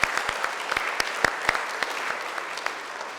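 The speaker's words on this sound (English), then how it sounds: "Round of applause for them." An audience applauds at an arts event, a dense crackle of many hands punctuated by sharper individual claps, steady and fairly close throughout.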